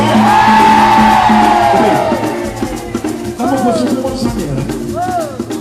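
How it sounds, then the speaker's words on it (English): A concert crowd at a Kawina show in Rotterdam screams and cheers loudly and continuously, with high whoops rising above the roar and music playing underneath. "Everybody scream!"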